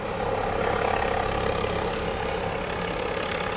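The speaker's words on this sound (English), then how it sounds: "So, as the helicopter is in the sky," A helicopter flies overhead as a loud, steady, broadband rotor and engine roar that fills the whole stretch without letting up.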